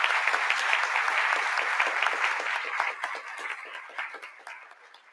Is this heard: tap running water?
no